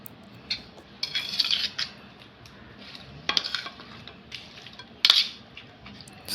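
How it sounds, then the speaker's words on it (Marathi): A spoon scrapes and clinks against a dish while spices are mixed into raw chicken for biryani, in scattered bursts of clatter close by, with quiet pauses between. "त्याला चमच्याने चांगलं मिक्स करून घ्यायचं आहे."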